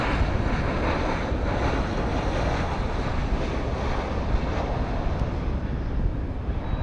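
A Southwest airliner landing on the runway at San Juan's Luis Muñoz Marín International Airport, heard as a steady, loud broadband engine roar that holds without a break, no voices over it.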